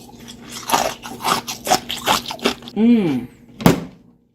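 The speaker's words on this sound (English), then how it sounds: "Crunchy nugget ice." Close, repeated crunching bites of nugget ice, about eight in a steady rhythm, then a brief voiced sound and one final crunch.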